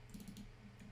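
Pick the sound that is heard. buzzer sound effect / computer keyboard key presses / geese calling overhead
computer keyboard key presses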